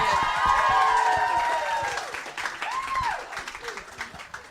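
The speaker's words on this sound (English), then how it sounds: "Round of applause, please." A live-show audience breaks into loud, dense applause that peaks early and then thins out into scattered claps, with voices and a whistle-like cry mixed in.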